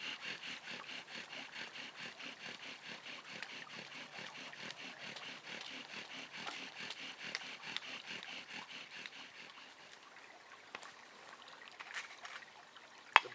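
Wooden bow drill spindle grinding into a wooden fireboard, a steady back-and-forth rubbing rasp in even strokes, close and fairly loud, slowing and fading in the last few seconds.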